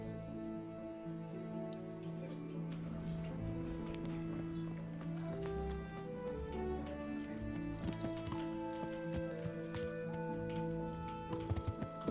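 A horse's hooves clip-clop steadily in the medieval video game Kingdom Come: Deliverance, a moderately loud rhythmic trot that continues over game music and ambient sound for the whole stretch.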